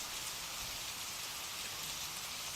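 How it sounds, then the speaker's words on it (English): Steady heavy rain pouring on a lamplit street as a drama sound effect, a dense even hiss of falling drops without pause and no voices. "Rain still pouring."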